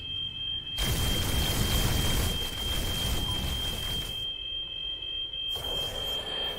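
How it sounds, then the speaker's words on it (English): A smoke alarm sounds in a No Man's Sky game session as a steady high-pitched tone running throughout, under loud rumbling and roaring game noise that swells and drops. "That sound you can hear is the smoke alarm."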